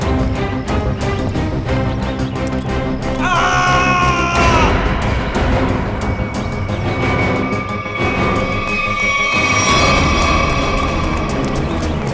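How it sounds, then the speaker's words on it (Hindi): A loud, drawn-out human scream rises and wavers over a dense, dramatic background of music and noise. "ये आवाज, ये चीखने की आवाज कहाँ से?"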